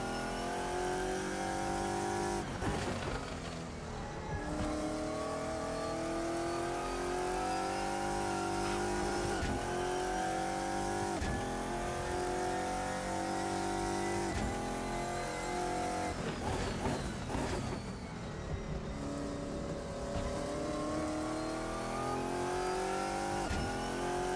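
A GT1 race car engine in Assetto Corsa at Donington Park roars loudly and continuously, rising and falling in pitch through repeated gear shifts and revs, with occasional faint tire squeal.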